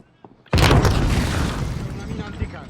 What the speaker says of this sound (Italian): Una mina anticarro.